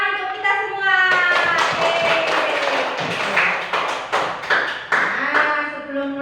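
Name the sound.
class clapping hands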